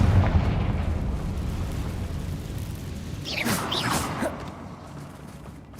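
Confringo explosive spell cast in Hogwarts Legacy: a heavy rumbling blast with fiery crackle, followed by a brighter whooshing burst midway that fades back into low ambient noise.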